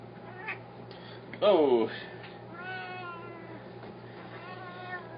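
A cat, restless and upset about a teal harness, lets out one clear drawn-out meow in the middle, with a brief vocal exclamation and some quiet human sounds around it indoors.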